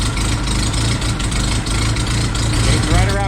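An older carbureted car engine on choke idles at about 800 rpm during electrical troubleshooting, a steady low rumble holding even throughout with a brief knock near the end.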